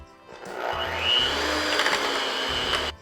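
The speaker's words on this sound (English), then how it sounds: "So I'm gonna mix it a little bit longer, see if I can get this to come together a bit more." Electric hand mixer whirs steadily for about three seconds as it beats butter and sugar for a 1960s cookie dough, starting and stopping abruptly, close and fairly loud with no talk.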